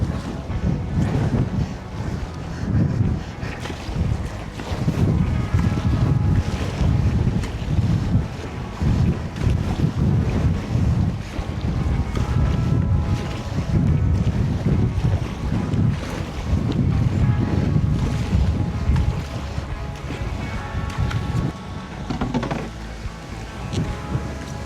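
Strong storm wind buffets the microphone in gusty, loud blasts on a lake while canoeing, with waves and water churning underneath throughout and no talk.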